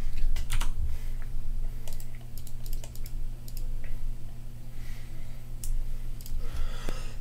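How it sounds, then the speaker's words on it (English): Crisp, rapid mouse and key clicks come in irregular clusters while someone plays the Magic: The Gathering card game on a computer, stepping through a turn, over a constant low hum. "Just clicking through my pre-combat main phase."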